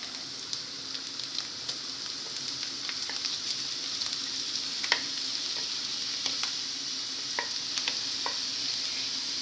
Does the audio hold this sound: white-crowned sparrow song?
no